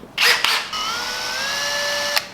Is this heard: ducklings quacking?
no